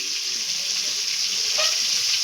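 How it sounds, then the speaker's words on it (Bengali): Fish fries in a wok, a steady close crackling sizzle that stays even throughout, with one faint utensil touch partway through and no talking. "আমার নেক্সট রাউন্ড এখানে মাছ ভাজা হচ্ছে।"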